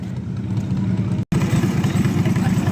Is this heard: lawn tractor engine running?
yes